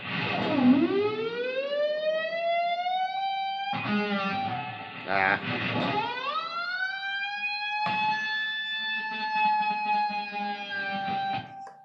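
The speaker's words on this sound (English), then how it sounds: "you push down on the whammy bar and hit your harmonic and pull back up" Distorted electric guitar harmonics, played with a whammy bar pushed down then pulled back up, swoop upward in pitch, dive and recover again, wailing like a siren. The rising and falling bends repeat loudly.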